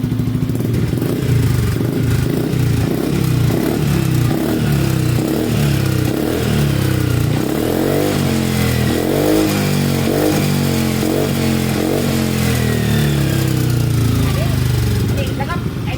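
A Yamaha XMAX 300 scooter fitted with a hand-adjustable two-mode exhaust revs loudly up close, rising and falling through repeated throttle blips over a rough idle, while someone talks over it.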